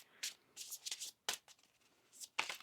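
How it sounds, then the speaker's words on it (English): A deck of tarot cards shuffled by hand close up, several quick riffling bursts separated by short pauses and soft handling sounds. "Let's get one more shuffle here."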